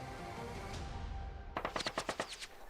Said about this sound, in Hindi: तभी अचानक से गोली चलती है।